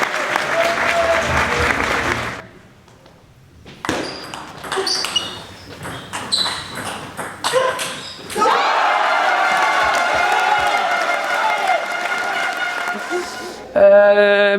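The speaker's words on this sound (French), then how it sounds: "Faites s'il vous plaît un tonnerre d'applaudissements aux volleyeuses de Saint-Dié et Louvre." Loud crowd applause with cheering for the Saint-Dié women's volleyball team, sustained and close, briefly dipping into a lull with scattered claps before surging again into a dense, steady ovation.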